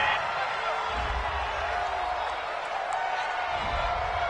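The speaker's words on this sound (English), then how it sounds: "This home crowd, they're happy with that call." A home stadium crowd at an Eagles football game roars in approval of a referee's call, a dense, sustained wall of cheering heard at a distance beneath a broadcast commentator's talk.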